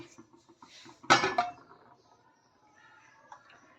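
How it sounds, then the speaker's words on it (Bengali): A weight set down onto a lid covering a pot of fish in a home kitchen: one sharp metallic clank with a quick follow-up knock, then faint small clinks in a quiet room. "ভালো করে ঢাকনাটা দিয়ে দিলাম আর এর উপরে একটা আমি ওয়েট চাপিয়ে দিচ্ছি"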